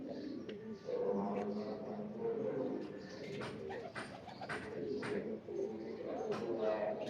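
Pigeon, a prized female, coos in soft repeated phrases close by, with people talking over it.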